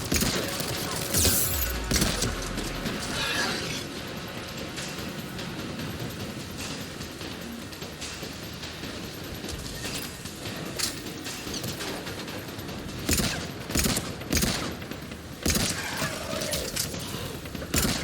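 Gunfire in the video game Mass Effect 3, scattered bursts and volleys of sci-fi weapon shots with sharp loud cracks clustering toward the end, over a busy battle soundscape.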